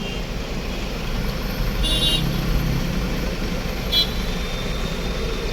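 A traffic jam with large container trucks on a congested road has a constant low rumble of idling and crawling engines. Two short horn toots sound nearby over the drone, with no talking.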